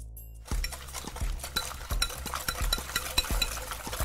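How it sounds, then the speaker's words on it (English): A whisk beats wet bread pudding ingredients with nutmeg and vanilla in a bowl, making a quick, rhythmic series of clinking taps against the sides, close and clear, with no one talking. "Now I'm gonna whisk that all up."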